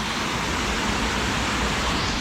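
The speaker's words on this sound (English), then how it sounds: "I'm at Plain Creek Falls, and it's anything but a plain creek." Plain Creek Falls, a waterfall on Plain Creek near where it meets the Delatite River, gives a loud, steady broadband roar of falling water, close and unbroken throughout, with no voices.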